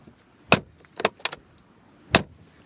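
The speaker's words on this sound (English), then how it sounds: "Also with those door handles with a classic door closing sound." The door of a Mercedes-AMG G63 G-Class makes a few sharp mechanical clacks near the microphone, with handle and latch clicks spread over a couple of seconds and one firm final shut.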